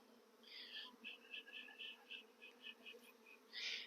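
Honey bees around a swarm bucket buzz in a series of short, faint, pulsing hums, rising and fading close by in a quiet outdoor setting.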